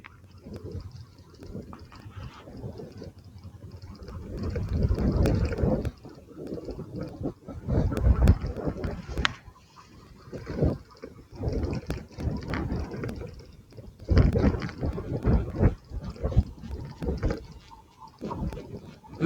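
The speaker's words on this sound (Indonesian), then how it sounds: "Uh, sampai segitu anginnya tuh." Strong wind buffets the microphone during a motorcycle ride on the road from Cianjur to Sukabumi via Gunung Padang, producing loud, low, gusting rumbles that rise and fall in uneven waves.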